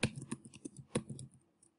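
Typing on a computer keyboard while entering spreadsheet data, a short burst of crisp, close key clicks that tapers off into quiet after under two seconds.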